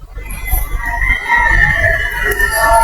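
Fighting chickens clucking and a rooster crowing, several birds close by with steady low farmyard rumble underneath.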